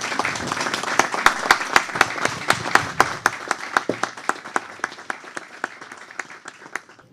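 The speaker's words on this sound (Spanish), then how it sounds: "Pido un aplauso por ella." An audience applauds María de los Ángeles Marechal with a steady burst of clapping that starts dense and lively, then thins into slower, more distinct individual claps as it tapers.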